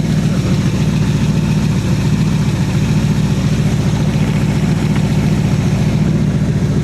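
A Chevy V8 in a casket car build idles steadily and loudly up close, freshly switched from two-stroke mix to pump gas, with a rough, even rumble and no talking.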